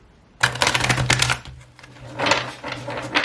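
A rapid, riffling flutter of stiff laminated tarot cards being shuffled, two bursts of crisp clicking close by.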